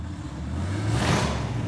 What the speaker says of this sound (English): I start hearing this really killer exhaust coming from outside the shop